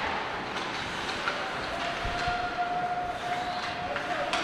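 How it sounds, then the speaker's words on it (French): End-of-game siren at a junior hockey arena, a thin sustained wail rising out of the crowd noise and holding steady, fairly distant and modest in level amid the arena din. "Malheureusement, la sirène se fait entendre."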